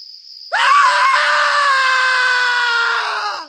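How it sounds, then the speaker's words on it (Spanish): A long, piercing bloodcurdling scream rings out at night in a dramatized audiobook scene, loud and sustained for about three seconds before fading, heard alone. "¿Qué ha sido ese grito escalofriante?"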